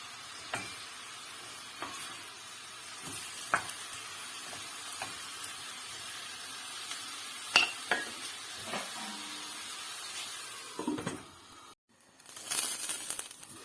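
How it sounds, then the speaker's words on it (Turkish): Quiet steady sizzling of meat frying in oil in a pot over high heat, with occasional scrapes and clinks of a utensil stirring, no voices. "Ve yüksek ateşte güzelce kavuralım."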